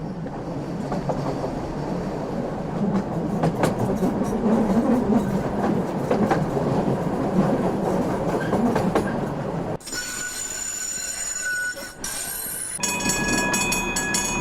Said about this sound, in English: You can see a subway train arrive and depart.